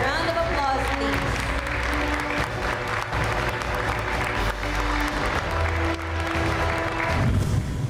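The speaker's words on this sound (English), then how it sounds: "Ladies and gentlemen, a round of applause, please" Audience applause at a hospital inauguration in the Philippines, a continuous crowd clapping mixed with background music and some voices talking underneath.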